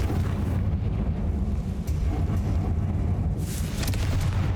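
A Confringo blasting spell explodes in Hogwarts Legacy, a loud rumbling blast that rolls on continuously with a brighter burst near the end and no voices on top.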